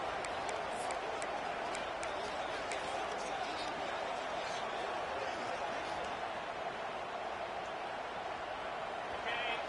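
Constant stadium crowd roar in a football video game, a dense steady wash of cheering voices with occasional sharp claps and thuds on top.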